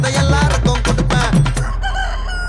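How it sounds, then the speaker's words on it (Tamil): A rooster crows loudly through a loudspeaker in a repeated, stuttering run of calls that gives way to a fading tail with a faint background hum. "சேவல் சத்தம் ஸ்பீக்கரை பொழக்குது"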